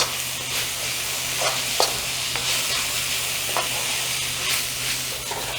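Vegetable fried rice with spring onion greens stir-frying in a pan: steady loud sizzle with several sharp scrapes and clanks from the stirring utensil, no voices.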